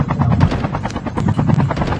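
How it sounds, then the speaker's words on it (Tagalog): A helicopter in Call of Duty Mobile drones steadily and loud, its rotor thumping with a fast pulsing beat through the whole stretch, with no talk over it. "Magkatabi tayo sa helicopter."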